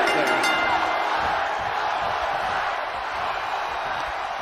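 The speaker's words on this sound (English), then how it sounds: "where you can't hear yourself think because the crowd's so loud" Roaring arena crowd at a live fight event, a dense, loud wall of cheering and yelling with no letup, whoops and shouts bursting out of the steady din.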